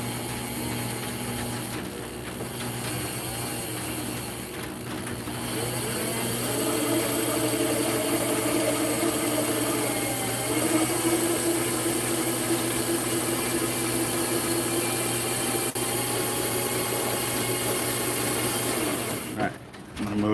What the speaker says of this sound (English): we're going to go ahead and start spooling this one up